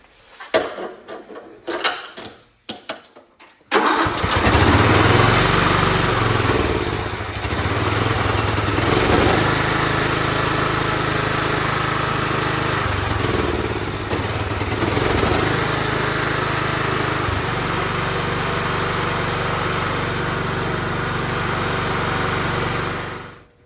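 A John Deere L110 lawn tractor with a weak battery goes through a few short clunks, then its small engine starts and runs at a steady, loud, close drone for about twenty seconds.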